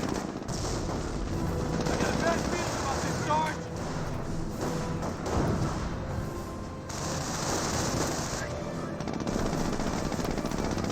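Rapid machine gun bursts and scattered gunfire from a Company of Heroes battle, with infantry squads, a Jeep and a mortar half-track engaging, play continuously under a commentator's talking.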